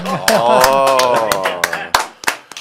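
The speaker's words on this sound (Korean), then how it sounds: "이거 박수 한번 나와야 돼" A few sharp hand claps ring out at irregular intervals in a studio during a real-estate and economics talk show, mixed under lively voices and what may be laughter.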